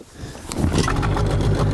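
A Tohatsu 9.8 hp outboard motor on a Flagman 420 catamaran revs up after a brief scrape, settling into a loud, steady droning hum close by.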